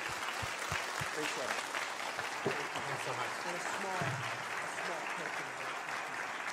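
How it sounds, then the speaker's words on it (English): After a university lecture the audience claps in a broad, even patter, and someone speaks briefly over the applause. "How about a big round of applause?"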